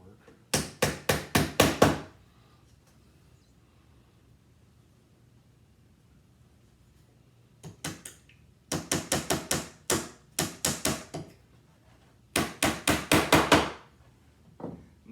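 A hammer drives small nails into a wooden beehive frame in quick bursts of sharp, close taps, with quiet pauses between the groups of strikes.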